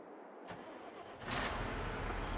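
A tractor in Farming Simulator 22 cranks with a short starter burst, then its engine catches and settles into a loud, steady rumbling idle for the rest of the moment, with no talking.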